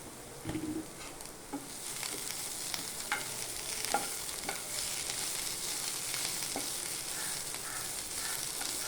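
Coriander powder sautés in a pan for egg curry, producing a faint, steady sizzle. Scattered soft scraping stir strokes sit over it, and a bird calls briefly in the background.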